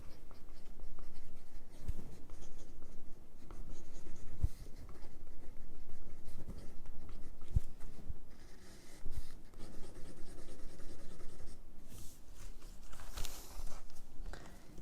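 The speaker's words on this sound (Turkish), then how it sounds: "Arkadaşlar yazınca yazımı bu şekilde olan bir kalem." Faber-Castell Grip 1347 mechanical pencil writing on paper, a steady close scratching and scraping of graphite that runs continuously with small pauses between strokes, heard alone without talk.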